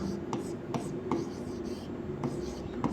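A pen scratches out maths equations by hand on paper, with short, crisp strokes and taps in an uneven rhythm, close by, while a faint voice murmurs in the background.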